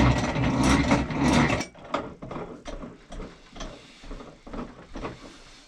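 A crank lowers the mechanism on a cap and ball revolver stand, starting with a loud grinding burst and then a series of close, rhythmic ratcheting clicks and knocks, spaced about every half second.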